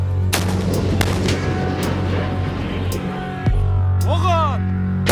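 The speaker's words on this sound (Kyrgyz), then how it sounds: "Экинчи ок атуу взводу огат." A second military firing platoon fires its volley at a unit anniversary ceremony, a few sharp reports over a loud steady hum, then a heavier thump near the end as a voice speaks briefly.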